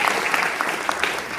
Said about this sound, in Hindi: मैं चाहता हूं कि आप लोग एक बार जोरदार तालियां उनके लिए